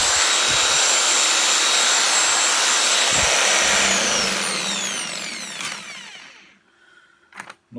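A faulty Skil 4900 reciprocating saw hums loudly with its rotor not turning, a steady close drone that fades out after about five seconds, followed by a few faint clicks.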